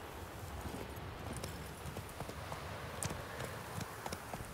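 Horse hooves clip-clop at a steady walking pace in The Witcher 3, a run of distinct light hoof strikes over a soft ambient bed of game background sound, with no speech.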